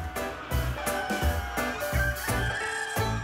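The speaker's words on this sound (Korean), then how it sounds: "울음소리도 우렁찬 이 닭들이" Korean native laying hens on a farm cluck and crow loudly in a series of repeated bursts. The calls come close and overlap one another, with no talking.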